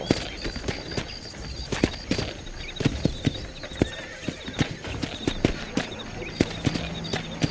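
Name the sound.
horse hooves in video game Red Dead Redemption 2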